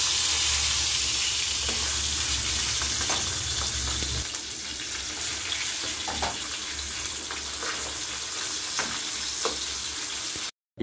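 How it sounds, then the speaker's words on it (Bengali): Pabda fish fry in hot mustard oil, a loud, continuous crackling sizzle close up with occasional pops and spatters, easing slightly midway before cutting off at the end. "এবার মাছগুলো একটা একটা করে ভেজে নেব।"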